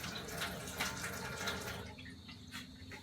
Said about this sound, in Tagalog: Hugasan na natin yung ampalaya.